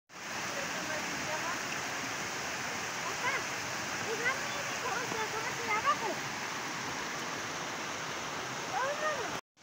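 A river in the Dinamos ecological reserve in Mexico City rushes steadily and loudly, a continuous broadband wash of flowing water with small splashes throughout.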